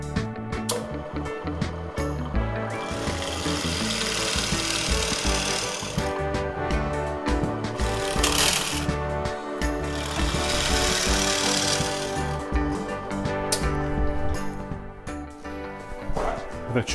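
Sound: drilling holes in an electronics enclosure

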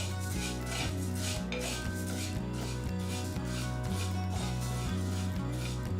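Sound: horse gram being dry-roasted in a pan

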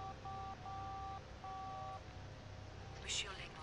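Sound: telephone number being dialed in The Da Vinci Code video game

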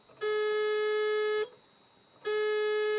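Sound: buzzer sounding on an EVA 66 intercom system

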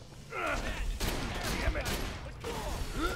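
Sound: enemy gunfire, from video game Borderlands The Pre-Sequel

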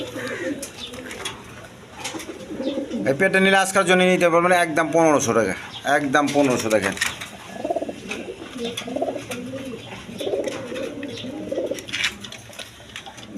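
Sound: pair of Resher pigeons cooing

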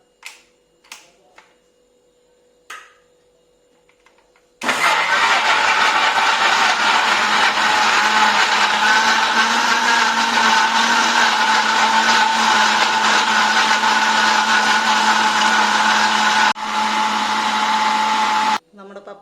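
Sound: blender blending papaya for juice

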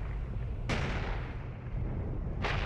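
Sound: tank cannon fire in IL-2 Sturmovik video game

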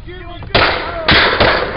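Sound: gunshots fired during an arrest

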